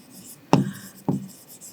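Pen or chalk writing by hand during a maths lesson, two sharp taps with short scratching strokes, close and clear with no talking.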